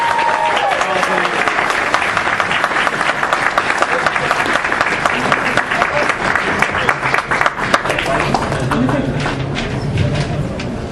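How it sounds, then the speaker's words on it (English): A comic convention crowd claps loudly for contest winners. The applause is dense and sustained, with some voices and cheers mixed into the clapping. "let's get a big round of applause for the winners"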